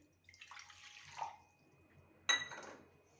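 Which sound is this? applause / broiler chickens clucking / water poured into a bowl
water poured into a bowl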